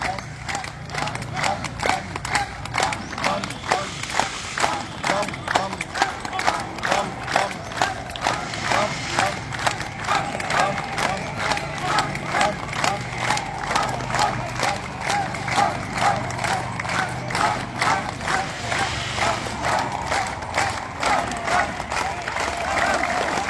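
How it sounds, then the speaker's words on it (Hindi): Group of people at a yoga and fitness session clapping hard in a fast, steady rhythm, sharp repeated claps running throughout with a crowd murmur underneath. "ताली में की आवाज़।"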